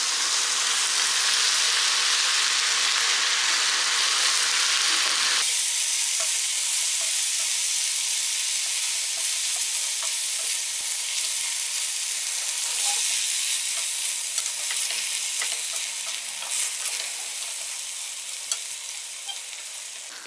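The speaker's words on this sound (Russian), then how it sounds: "Еще немножечко жарим" Green beans and garlic fry and are stirred in a pan, making a steady, close, bright sizzle that goes on throughout with some quieter scraping toward the end.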